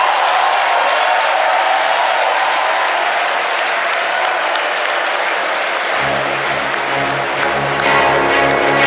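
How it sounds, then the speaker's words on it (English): Audience applause for Peter Obi at a Democracy Day dialogue, a sustained, loud, dense burst of clapping from a large crowd filling the hall without pause. "A round of applause for him again."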